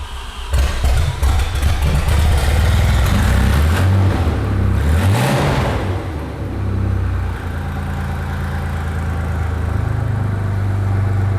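An Audi 90 Quattro Sport engine runs loudly nearby, rumbling rough with no exhaust fitted, swelling into a brief rev before settling back to a steady idle.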